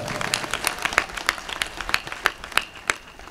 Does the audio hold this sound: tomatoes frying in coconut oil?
no